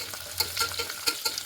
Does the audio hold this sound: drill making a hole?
no